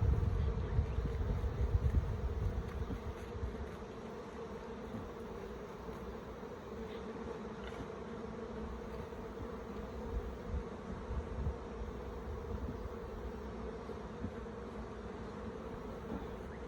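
Steady buzzing of honeybees at crowded hives fills the recording, close and continuous, with a louder rumble at the start and light wind noise throughout.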